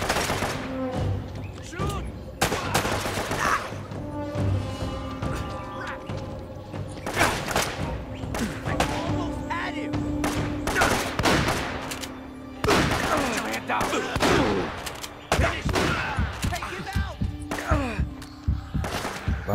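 Gunfire in the Uncharted: Drake's Fortune video game, rapid bursts of loud shots cracking in irregular volleys through a combat scene, with voices talking over the fighting.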